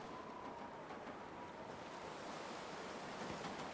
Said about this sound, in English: Gosh, it's windy out there.